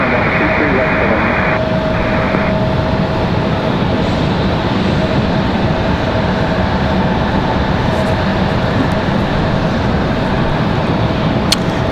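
Aircraft at Raleigh-Durham International Airport producing a steady, loud, broadband engine roar that fills the whole clip without letting up, with no talking.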